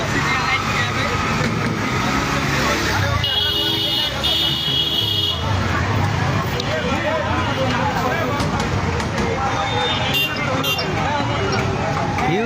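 A long queue of motorbikes and other vehicles waits for fuel in Rajbari during a fuel shortage. Engines idle in a constant traffic rumble, with a few horn toots and background voices.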